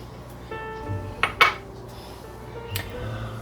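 A spoon stirs blueberries and sweetener in a baking dish, with a few bright clinks and scrapes of utensil on dish over a low background hum, no talking.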